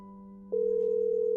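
A telephone dial tone: a steady low hum, then a click followed by a continuous louder ringback tone as a phone call is placed.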